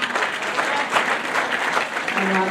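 A church congregation at an anniversary worship service breaks into sustained applause, a full, even crowd clapping that holds steady, with a voice rising near the end.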